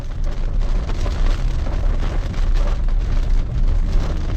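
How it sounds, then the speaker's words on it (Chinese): Dense, heavy rain drums steadily on a moving car's roof and windshield on the Jiagedaqi–Mohe highway, wipers at top speed, a loud continuous roar with no pauses. "雨势又急，雨点又大，雨丝又密。"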